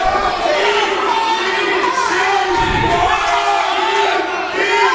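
A wrestling crowd at an independent pro wrestling show cheers and shouts loudly and without a break, a roaring mass of voices with chanting and yells rising and falling.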